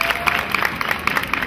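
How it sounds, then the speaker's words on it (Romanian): A crowd applauds children and their teacher, Marinica Ifrim, at a Heroes' Day and Ascension Day event in Moinești, with a steady patter of clapping and no talk. "să ne aplaudăm o dată pe acești dragi copilași și pe doamna profesor Marinica"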